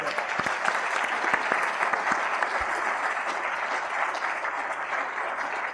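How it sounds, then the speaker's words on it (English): A lecture audience applauds the speaker at the end of a talk on the California drought. Dense, steady clapping fills the hall at full strength throughout, with no voices over it. "How about another applause for Bill?"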